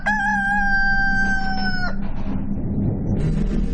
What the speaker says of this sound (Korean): 정막을 깨는 한 수탉의 울음소리.